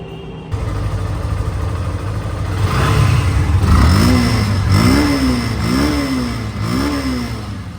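A Yamaha FZ motorcycle engine fires up, idles briefly, then revs several times in rising and falling bursts, close and loud, with no talking.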